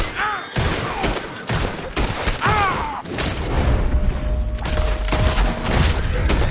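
Gunfire in a Red Dead Redemption 2 shootout: dense, loud volleys of shots and booms run throughout, with brief shouted voices in the mix.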